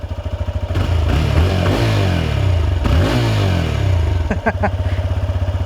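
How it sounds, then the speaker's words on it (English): A TVS Raider 125 motorcycle engine idles with a steady low thrum, then revs up twice, the exhaust note rising and falling, followed by a few quick sharp blips. "the exhaust note on the Raider is actually much better as compared to that on the Glamour"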